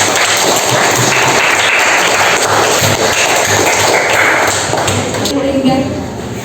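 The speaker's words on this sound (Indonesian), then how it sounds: "tepuk tangan buat kita semua" Students in a classroom lesson clap together, a loud, close, continuous patter with a few taps and thumps mixed in, fading slightly at the end, with voices heard alongside.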